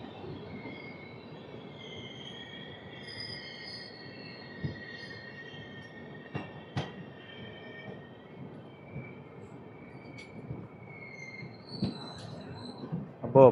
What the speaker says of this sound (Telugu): ఒక 2 మినిట్స్ కామారెడ్డి స్టేషన్లో ఆగిన తర్వాత మన ట్రైన్ అయితే స్టార్ట్ అయిపోయింది.